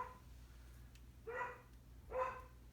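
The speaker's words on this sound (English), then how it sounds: "Sorry about the dog barking." Two separate barks come from a Beagle Shepherd mix dog about a second apart, set back at moderate distance over a steady low hum, with no voices.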